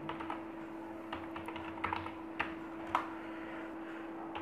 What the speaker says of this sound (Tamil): இதில் நான் சிஎம்டியில் அடித்த கோடை டைப் பண்ணுறேன்